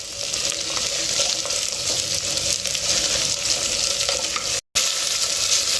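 Carrots and cauliflower fry in a pot for matka vegetable pulao, giving a loud, steady, close sizzle with one brief dropout and no voices.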